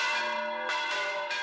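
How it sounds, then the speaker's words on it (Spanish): Centuries-old village church bells ring close and full, with sustained overlapping tones and a fresh strike partway through. "Las campanas del pueblo llevan tañendo 4 siglos de historia"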